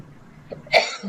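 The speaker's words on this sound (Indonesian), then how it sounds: "Ini saya mohon maaf kalau masih batuk-batuk ya" A single sharp cough, close and fairly loud, preceded by a faint throaty sound.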